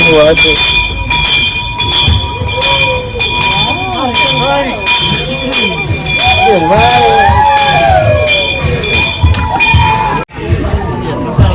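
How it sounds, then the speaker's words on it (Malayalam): A station bell rings steadily as the Puffing Billy steam train in Melbourne begins chuffing in regular beats. A crowd chatters and voices talk over it. "ആ ബെല്ലടിച്ചാല് ട്രെയിൻ സ്റ്റാർട്ട് ആകുവാണ്."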